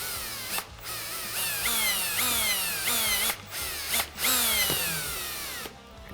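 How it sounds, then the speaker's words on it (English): A power drill bores a 1/4 inch hole through a Polaris RZR XP Turbo fender flare, its close, loud whine rising and falling in repeated bursts as the bit bites, with a few short pauses between runs. "just go ahead and drill your 1/4 inch hole."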